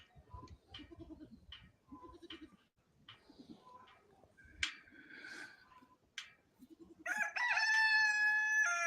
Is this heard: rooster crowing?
yes